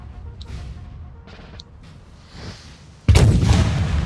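French artillery firing on Russian guns in a Napoleonic battle video game set at Borodino, faint distant thuds at first, then a sudden loud close cannon blast with a rumbling roar that carries on to the end.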